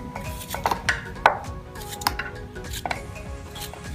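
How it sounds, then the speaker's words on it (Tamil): A knife chops a peeled raw potato into small pieces on a board, a handful of crisp close taps at an uneven pace with no voices. "இது நம்ம அந்த வீடியோவில் காமிச்ச மாதிரி சின்ன சின்னதாக கட் பண்ணி வச்சிடலாம்"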